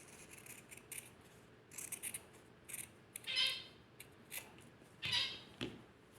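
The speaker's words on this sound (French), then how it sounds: "Une fois que c'est cousu, je peux couper donc ici cette partie." Sewing scissors trim off the excess sewn fabric at a mitered hem corner, giving a few soft, close snips and crisp cuts, faint and spaced out over a quiet background.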